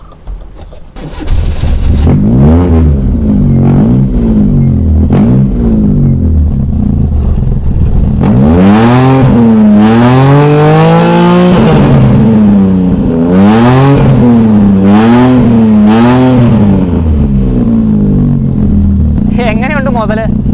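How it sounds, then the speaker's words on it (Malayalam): A modified Maruti 800 with an aftermarket exhaust revs loudly and close up, its engine note rising and falling through several long, throaty blips before settling back to idle. "ഞാൻ ഇതിൻ്റെ എക്സോസ് നോട്ട് ഒന്ന് കേൾപ്പിച്ച് തരാം"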